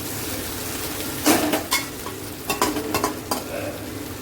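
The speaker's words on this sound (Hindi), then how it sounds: "और एक मिनट धीरे से चला के" Onion, paneer and capsicum are stirred gently in a kadhai, a spoon scraping in a few slow, separate strokes against a low, steady sizzle, heard up close with no voices.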